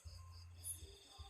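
Crickets chirping at night in a mountain durian orchard, a faint steady high-pitched trill over a low background hum, quiet and distant.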